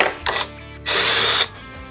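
A power drill drives a screw into a wooden truck bed, a short whir followed by a louder sustained whine about half a second long, close up, with no talking.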